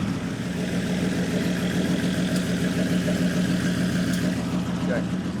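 The Jaguar XJ13, a unique race car, idles steadily with a low, throbbing engine note and a constant rumble, close by and unbroken throughout.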